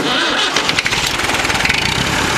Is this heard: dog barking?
no